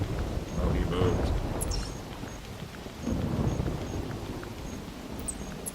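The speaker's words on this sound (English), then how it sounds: "That was the quickest rainstorm I've ever seen." Rain falls steadily in the hunting video game theHunter Classic while thunder rumbles in two heavy rolling swells, loud and close, with faint bright drips scattered over the downpour.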